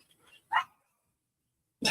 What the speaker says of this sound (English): I hope somebody puts that dog in the house.